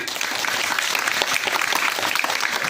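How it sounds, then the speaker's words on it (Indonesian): Audience applause at a school student council candidate debate in Pati, a steady, dense wash of many hands clapping evenly for the whole stretch with no voices standing out. "Kita berikan tepuk tangan."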